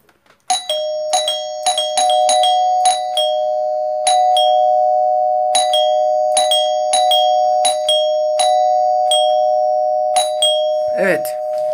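Ding-dong doorbell ringing repeatedly, loud and close, with bright two-tone chimes struck in an irregular series over a sustained hum, ending with a brief rattling sound.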